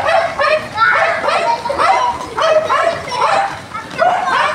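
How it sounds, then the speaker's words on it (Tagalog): A dog barking in the rain during flooding, repeated yelping barks at a steady rhythm, fairly loud and close, with voices audible in the background. "Nauulanan yung aso siguro kaya tumatahol."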